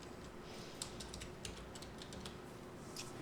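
A search word is typed on a computer keyboard, quiet scattered key clicks over a steady low background hiss, with no talking.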